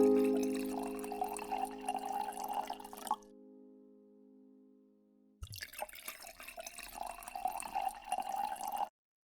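A drink is poured into a glass in a trickling liquid stream, faint and close, with a pause midway before pouring resumes, a hum briefly showing during the gap.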